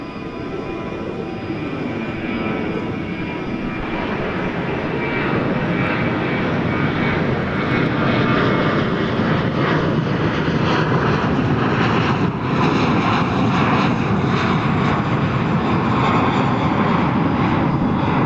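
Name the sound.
American Airlines plane at DFW Airport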